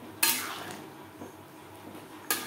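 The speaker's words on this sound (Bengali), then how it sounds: "ডালের সাথে উচ্ছের সন্ধে ডাঁটা বেশ ভালো করে মিক্সড করে দেবো" A utensil stirs dal with bitter gourd and drumsticks in a pot, two sharp metallic scrapes with quiet clinks and a faint simmer between them.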